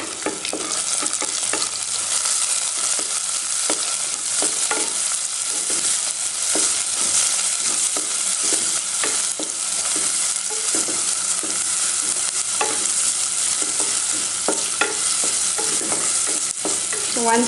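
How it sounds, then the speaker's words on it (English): Snake gourd frying in a pan, with a constant bright sizzle and periodic scraping knocks of a spoon stirring close up, no talking. "give that a stir"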